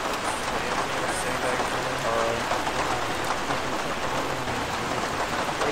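Heavy rain in the Arma 3 military game, a constant loud hiss of falling drops with faint voices underneath.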